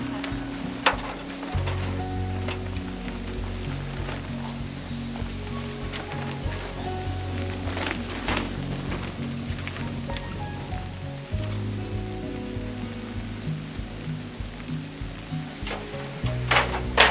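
Rain pours down steadily during a storm at a cabin whose roof is being covered, a dense hiss with scattered sharper drops and low rumbling underneath, continuous throughout.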